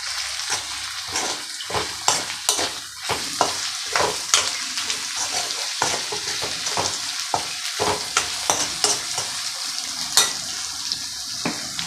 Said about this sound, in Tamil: இப்போ இந்த உப்பு, மிளகாப்பொடி, மஞ்சள் பொடி எல்லாம் மிக்ஸ் ஆகிற மாதிரி நம்ம அதை வதக்கி விடுவோம்.